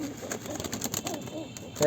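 Pigeons being counted and handled for sale, with soft bird calls and fluttering sounds close by over about two seconds, and a louder burst at the end.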